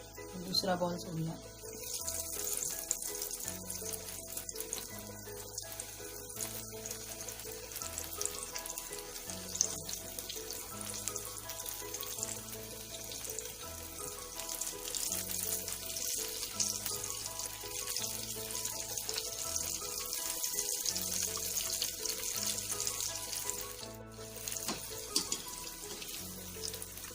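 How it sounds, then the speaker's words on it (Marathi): Cheese corn balls deep-fry to golden in a kadhai of hot oil, giving off a continuous close sizzle and hiss that holds throughout, with soft instrumental music running beneath. "सोनेरी रंगावर तळून घेत आहोत."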